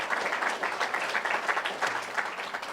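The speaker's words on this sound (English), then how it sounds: "round of applause" A round of applause from the audience at a university athletics Hall of Fame induction ceremony, dense clapping throughout at a moderate distance, pulsing slightly in intensity.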